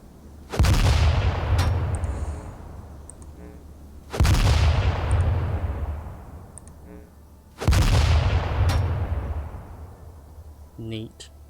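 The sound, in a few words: training grenade explosions in the video game Atom RPG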